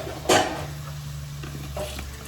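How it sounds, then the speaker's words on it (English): Garlic being stirred in a cooking pot, a brief scrape of a spoon against the metal near the start, then a faint low sizzle and a soft second scrape, close by. "Give it a stir."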